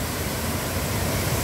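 Water from a creek dam in rural Mombaça, Brazil, pours over the spillway as a loud, dense, unbroken roar heard close by, with no voices.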